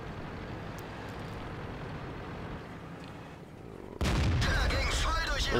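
A tank cannon fires in the video game World of Tanks: a steady engine rumble runs for several seconds, then a loud, sudden blast with a voice talking over the din.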